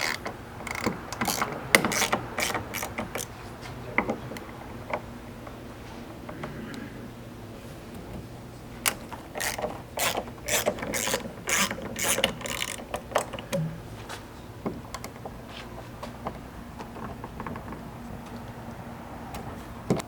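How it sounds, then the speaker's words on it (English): A ratchet loosens Torx Plus 45 fasteners on a Ford Bronco tailgate, giving bursts of rapid clicking and ticking with scraping and handling clatter in between, close up and without speech. "For these, you'll just need a TP or Torx Plus 45. And you can kind of begin by just breaking all of these free."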